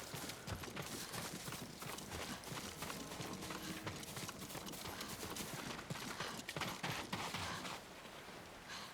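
Horses clip-clop at a walk in the video game Ghost of Tsushima, a dense run of hoof taps over a soft background bed, fairly faint and without speech.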